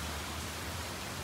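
Heavy downpour pouring onto a flooded balcony with chairs standing in water, a dense, even hiss of rain close by, steady and unbroken over a brief moment, no voices.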